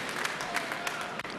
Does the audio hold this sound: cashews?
no